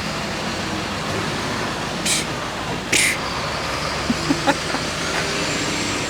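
An old Cadillac engine idles with a steady low rumble throughout, close and even, with a couple of brief bright hisses partway through and a few soft clicks near the end.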